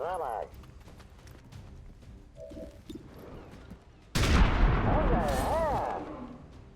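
Burst of gunfire aimed at a mutant in the turn-based strategy game XCOM 2 with the Long War of the Chosen mod, loud sudden shots with a heavy low-end boom and lingering rumble that start midway through, after quieter game sounds and talk.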